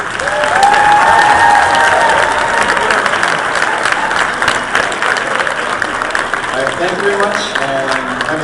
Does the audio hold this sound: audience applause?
yes